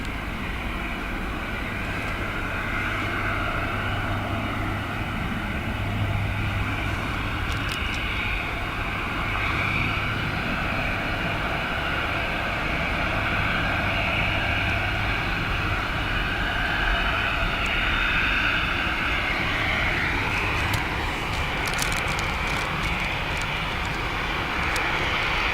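Green ATR turboprop passing at Dublin Airport in windy, wet weather, a sustained propeller drone with a steady low hum and tonal bands that swell and shift slightly as it goes by, no voices.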